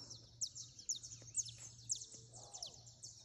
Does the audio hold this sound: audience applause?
no